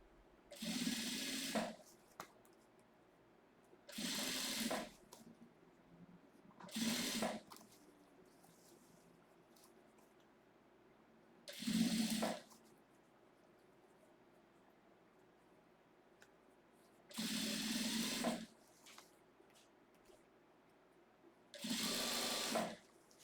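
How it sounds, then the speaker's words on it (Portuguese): A sewing machine runs in six separate bursts, each a steady buzzing whir of a couple of seconds, as a seam is stitched around right sides of fabric for a basket-style pencil case, close up with quiet pauses and no speech. "vou passar uma costura agora de um pé de máquina aqui"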